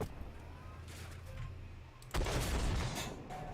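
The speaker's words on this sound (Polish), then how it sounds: "Widzę, że jakaś artyleria zaczęła bić." Artillery fire in a video game: a low, rumbling battlefield din with faint distant thuds, then a loud boom that opens into a sustained, crackling roar of fire.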